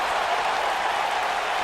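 A wrestling crowd in the WWE 2K game, steady applause and cheering spread evenly, fairly faint and brief.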